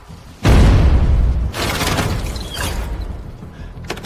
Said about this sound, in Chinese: 全炮装填完毕，等待指令，开火！ 给我把他们全部轰成碎渣